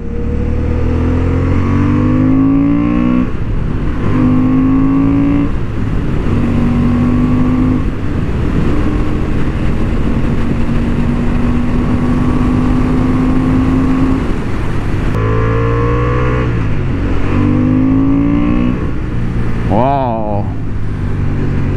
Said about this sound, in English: Oh, the sound when you accelerate, it's a really, really good one.